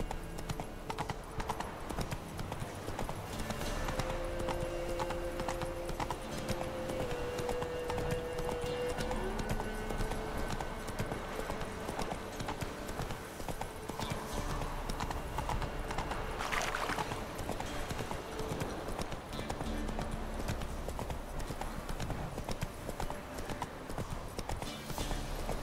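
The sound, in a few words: horse Roach galloping in video game Witcher 3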